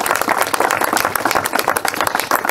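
Close, loud applause from an audience at a watchtower inauguration, dense overlapping claps that stay steady and full for the whole stretch.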